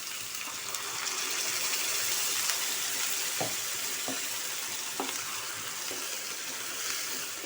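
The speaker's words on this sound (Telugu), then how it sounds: "ఇవన్నీ కలిసి ఆయిల్లో పచ్చివాసన పోయేదాకా టమాటా వాసన వేయించుకుందాం." Tomato masala with ginger garlic paste and onions fries in oil as a constant close sizzle, broken by a few light spoon taps against the pan midway.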